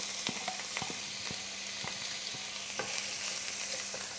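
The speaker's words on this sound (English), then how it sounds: "First we'll put in the onions." Onions fry in hot olive oil with a steady, even sizzle and crackle, while light taps and scrapes of a stirring utensil come through at intervals, fairly quiet and without talk.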